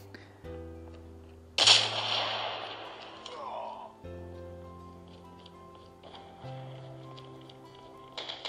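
Sniper fire from the mobile shooter game Call of Duty Mobile, with a loud sharp shot followed by a decaying boom over tonal game music and effects. A second, fainter burst is heard near the end.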